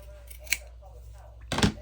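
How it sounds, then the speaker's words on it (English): Scissors make a quick snip through denim fabric, followed by a louder crunchy cut near the end, close and crisp against a quiet room. "Okay, denim. This doesn't look like the piece I was cutting off of"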